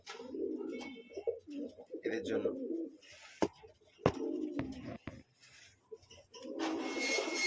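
Soft, low pigeon coos repeat in short bursts, close by, while a person speaks briefly over them and a few sharp knocks break in.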